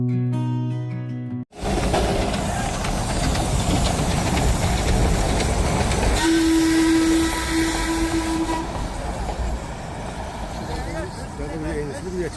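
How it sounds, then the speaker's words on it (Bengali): The Darjeeling toy train rumbles steadily past at Batasia Loop, loud and close, with a long sustained whistle tone partway through and a brief tonal sound at the very start before the rumble. "বাতাসিয়া লুপের টয় ট্রেন"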